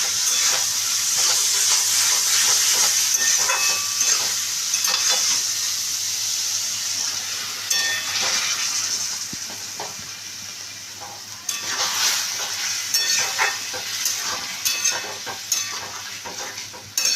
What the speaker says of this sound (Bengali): দেখুন বন্ধুরা, মশলার সাথে আমি আলু বেগুনটাকে ভালো করে কষিয়ে নিচ্ছি